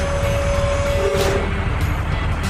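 A wheel loader raises its bucket in a children's construction app: a steady mechanical engine rumble with a hydraulic whine rising over it, close and continuous, with no speech.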